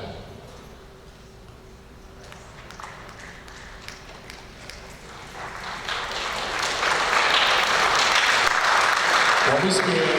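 An audience applauds after a poetry reading at Mars Hill University. The clapping starts faint and scattered, then swells into steady, fuller applause over the second half.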